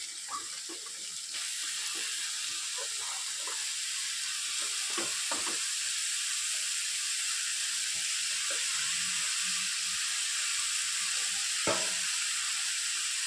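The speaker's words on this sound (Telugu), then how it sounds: "ఇప్పుడు మనం కోసి ఉంచుకున్న పాలకూర వేసుకుందాం" Chopped spinach leaves frying in oil in a pan, a steady close hiss of sizzling that runs throughout, with scattered faint clinks and stirring ticks and one brief louder knock near the end.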